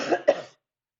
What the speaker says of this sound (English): This coughing really is getting the better of me.